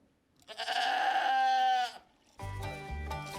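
A goat bleats twice nearby, the first a long wavering cry and the second a lower, rougher call, with no talking over it.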